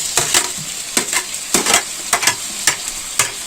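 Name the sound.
frying spices with onions in ghee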